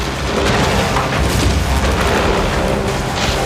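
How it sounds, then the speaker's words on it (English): A wood chipper shredding a wooden coffin as the box is drawn into its steel jaws, a loud, continuous rumbling roar of grinding and splintering with heavy booming low end and no talking. "The chipper is turning the coffin and its occupant into shreds."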